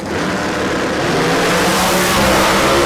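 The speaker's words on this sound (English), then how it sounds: "Matuzik starting to spool up those turbochargers" NHRA drag racing cars at the start line, turbocharged car spooling up with a blower car behind, a loud steady roaring engine drone that builds slightly over three seconds, dense and close.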